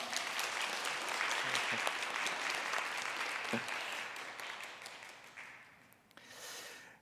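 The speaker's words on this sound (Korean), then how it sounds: "한번 일어나시면 우리 박수로 환영하겠습니다." A church congregation applauds in welcome during a Wednesday service, steady clapping that holds throughout at moderate volume, then tapers off near the end.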